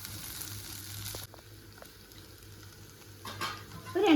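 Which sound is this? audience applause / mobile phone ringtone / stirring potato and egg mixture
stirring potato and egg mixture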